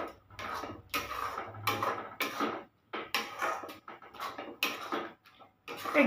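Powdered milk being stirred into grated coconut for naru, a Bengali coconut sweet, with a utensil scraping and knocking against a pan in short repeated bursts separated by brief pauses.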